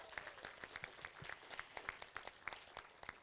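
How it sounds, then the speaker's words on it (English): A small group applauds at a city council meeting, with quick, uneven claps that are fairly quiet and close, lasting a few seconds. "Please give them a big round of applause."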